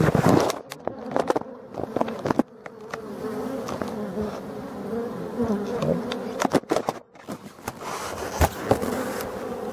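Black forest bees swarm at a hive in Brittany on the first of May, a dense, continuous close buzzing with sharp passing swells as insects fly near.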